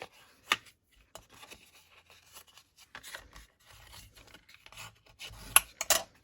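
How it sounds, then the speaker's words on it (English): Scissors fussy cutting around a paper doily, with sparse close snips and soft paper rustles separated by quiet gaps. "I'm going to get ready to start fussy cutting"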